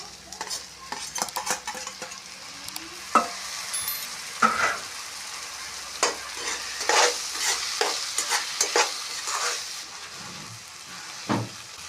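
Cucumber pieces cooking with softened tomatoes in a pan for a dry prawn curry, a steady sizzle broken by repeated scraping and clinking of a spoon stirring against the pan, close and alone with no talk.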